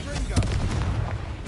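A Bombarda spell blast in Hogwarts Legacy, a short deep rumbling boom with dense low crackle filling the moment, accompanied by voices.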